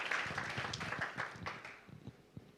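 A church congregation claps together in a burst of applause that starts full and steady, then thins out into scattered claps before fading.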